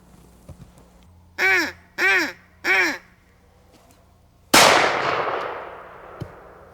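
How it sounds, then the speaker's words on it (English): Three short nasal quacks from a duck call in quick succession, then after a pause a single loud gunshot that echoes and fades, during retriever gun-dog training. "He's going to blow the duck call, throw the bumper, and fire the gun."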